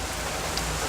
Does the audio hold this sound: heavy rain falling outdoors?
yes